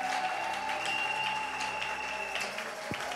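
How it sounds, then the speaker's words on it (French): A church congregation applauds and cheers during a worship service, with steady clapping and a sustained tone underneath, heard from a moderate distance. "Les acclamations, c'est pour Jésus"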